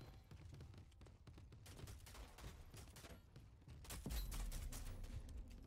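Gunfire in the game Rogue Company: dense, rapid bursts of shots crackling throughout at moderate distance, growing louder and heavier toward the end, with no one speaking.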